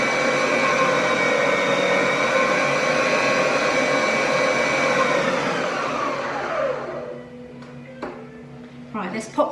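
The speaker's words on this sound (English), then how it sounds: "So I just will turn that on just to whisk the eggs" An electric mixer whirs steadily at high speed as it whisks eggs, loud and close, then winds down and stops, followed by a few knocks and clatters.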